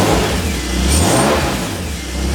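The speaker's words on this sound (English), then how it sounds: "That's misfiring." A BMW E46 engine with aftermarket headers revs unevenly while misfiring, its loud mid-pitched note rising and sagging in rough surges close by, with no talking.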